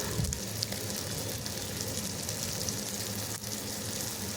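Chutney ingredients sauté in a hot pan, giving a steady, close broadband sizzle and crackle that runs unbroken, with no voices.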